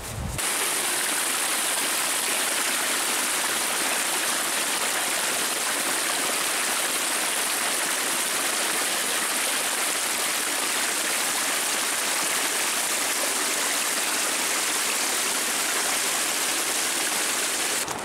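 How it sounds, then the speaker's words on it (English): Rushing white water near Ohiopyle, Pennsylvania makes a steady, dense roar that stays loud and unbroken throughout, with no voices. "I figured out the source of that sound that I thought was the river."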